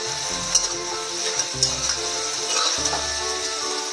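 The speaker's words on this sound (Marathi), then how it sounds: "कांदा आपला चांगला विरघळू द्या, लाल होऊ द्या त्याला" Chopped spring onion frying in reused oil from fried fritters, cooked until reddish-brown: a steady close sizzle runs throughout with occasional scraping clicks of stirring.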